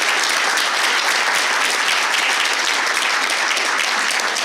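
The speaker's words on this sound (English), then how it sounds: "I'd like everybody to give these guys a big round of applause." An audience at a yachting leadership panel event gives a round of applause, dense continuous clapping from a crowd, even and sustained throughout with no voices over it.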